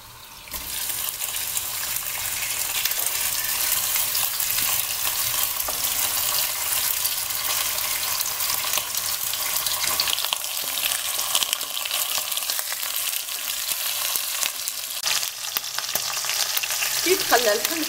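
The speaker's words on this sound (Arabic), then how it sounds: "ونلوح هذاك اللحم يتقلى، نبدا به هو الاول" Meat fries in about three ladles of hot oil for freekeh soup, a loud, dense crackling sizzle that starts abruptly and holds steady throughout, close up with occasional stirring clatter near the end and no speech.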